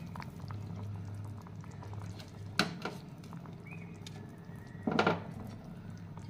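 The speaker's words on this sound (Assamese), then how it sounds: "এতিয়া আৰু 10 মিনিটমান উতলাবলৈ দিম" A pot of sour fish curry simmers quietly with soft bubbling, punctuated by two brief clattering knocks and a faint tonal whine, no speech.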